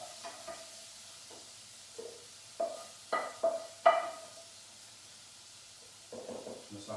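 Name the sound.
spooning ravioli peperonata into a pan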